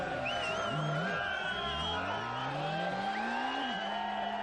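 Stunt motorbike revving through a wheelie at a 2003 stunt bike show, engine pitch climbing and dropping amid crowd noise and a loud commentator's voice over a PA.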